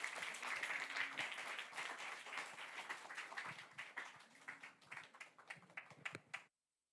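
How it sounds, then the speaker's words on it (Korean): Audience applause at a Korean forum on the Korean War and Israel, greeting a former ambassador as he comes up. Dense, steady clapping from a crowd fills the room for about six seconds, thinning into scattered claps before stopping abruptly. "우리 그럼 마영상 대사님 박수로 모시겠습니다."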